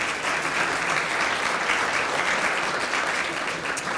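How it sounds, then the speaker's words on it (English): An audience at the Tribute to Mayors event gives sustained applause, a thick, even roar of clapping that holds steady from start to finish. "Please give them a round of applause for making this happen."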